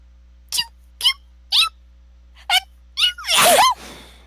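A series of small, squeaky sneezes, five quick ones evenly spaced and then a louder, longer burst, close and clear against a quiet background.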